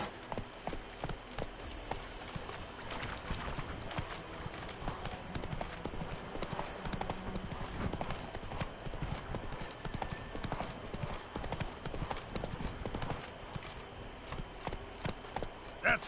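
Roach, a horse in The Witcher 3, galloping with quick, continuous hoofbeats clip-clopping at close range, steady and busy throughout with ambient game background beneath.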